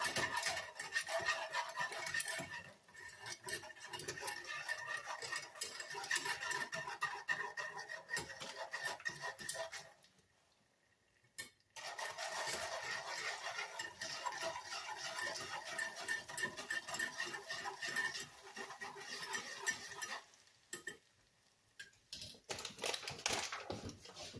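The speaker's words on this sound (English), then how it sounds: "we're going to whisk that together until the sugar is dissolved." Sugar being whisked into bacon grease in a pan, giving a steady, busy scraping and ticking rhythm up close, with two brief pauses partway through and no voices.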